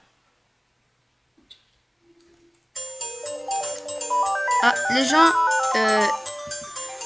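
A phone rings during a game session with a melodic electronic ringtone that repeats in stepped notes, loud and steady, after a brief spoken phrase and a short beep.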